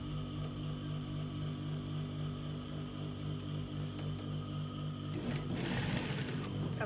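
A sewing machine stitches fabric for a layered dress, with elastic being sewn on. It runs as a steady, close, continuous whir, then turns rougher and busier in the last couple of seconds.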